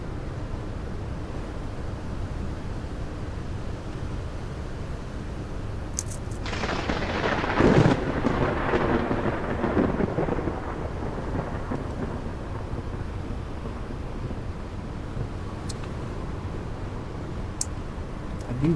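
A radioactive storm in a video game rumbles with a long, loud thunder roll that builds and fades over several seconds, set against a constant hiss of rain.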